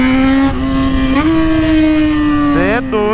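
A Yamaha XJ6 motorcycle with a 600cc engine revs hard and close: a loud, buzzing drone climbs in pitch, settles, then rises again in quick throttle blips near the end.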